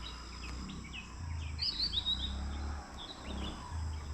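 Bulbuls call on a hillside road, with a few bright chirps and short warbling phrases at moderate distance over a steady low background rumble of insects and ambient noise.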